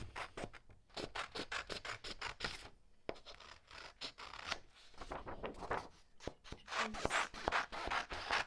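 Close, quiet scissors snip and scrape repeatedly while trimming around a sublimation transfer sheet, with a quick irregular rhythm and a rustle of paper.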